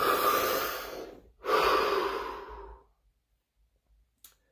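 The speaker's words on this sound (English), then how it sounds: "Take another deep breath." Two slow, deep breaths taken close up, a long inhale followed by a full exhale, and then near silence.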